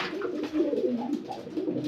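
Pigeons cooing nearby in a breeding loft, a low, continuous rolling coo with overlapping throaty calls.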